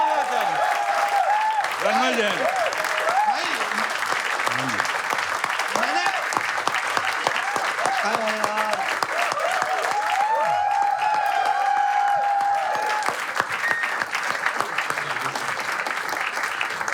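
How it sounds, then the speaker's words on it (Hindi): A live audience at a comedy and poetry gathering applauds for several seconds, a dense wash of clapping while someone speaks over it on a microphone. "दोस्तों जोरदार ताली"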